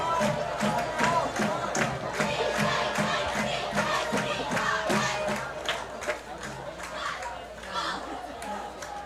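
A homecoming crowd at a high school football game cheers and shouts loudly and continuously, a dense roar of many voices with sharp bursts, while a commentator talks over it.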